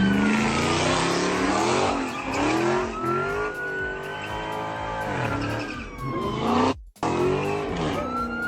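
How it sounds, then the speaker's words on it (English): A car drifts while police follow with lights and sirens, its engine roaring loudly and revving up and down with sustained tire squeal throughout, close and continuous apart from one brief cut. "this dude kept drifting"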